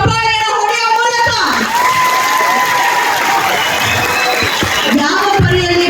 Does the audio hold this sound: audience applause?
yes